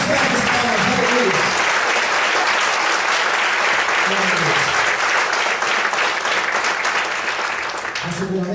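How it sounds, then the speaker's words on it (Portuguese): A church congregation claps continuously through the whole stretch, a thick, even wash of applause with voices calling out beneath it. "As palmas, aleluia."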